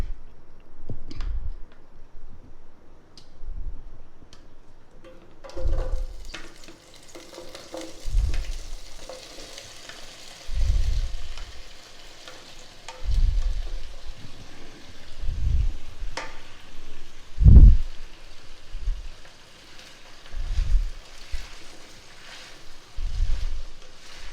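Okra fries in oil in a pan with a steady low sizzle, broken by regular, repeated stirring scrapes roughly every couple of seconds, close and moderately loud with no talking.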